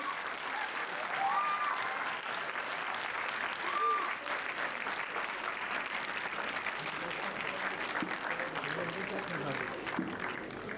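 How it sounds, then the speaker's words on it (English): Steady applause from a large audience at a dental sciences institute ceremony honoring a student, a continuous dense wash of clapping lasting over ten seconds, with faint voices mixed in. "May we have a huge round of applause for Yasir?"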